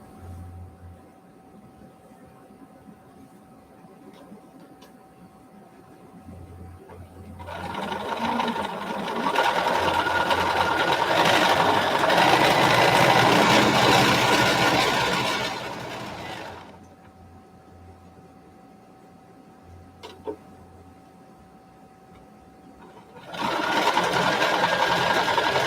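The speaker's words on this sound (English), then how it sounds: "So now we're getting into the slow sewing part of the hour." Sewing machine stitching a fabric face mask, running in two long steady whirring bursts with a quiet pause between, close and loud with no talk over it.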